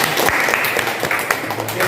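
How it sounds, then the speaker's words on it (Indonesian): Brief round of clapping from a class or seminar audience during a medical lecture on cardiovascular care, scattered individual claps with some murmuring voices underneath, close and fairly loud. "Tepuk tangan buat grup ini."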